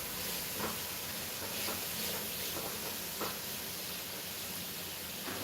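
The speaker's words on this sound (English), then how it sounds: "I want to cook the curry paste a little bit." Curry paste with coriander and ginger fries in a pan, a steady, close sizzle and hiss with a few faint stirring clicks, no voices.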